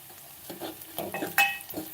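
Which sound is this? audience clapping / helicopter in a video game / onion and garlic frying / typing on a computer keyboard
onion and garlic frying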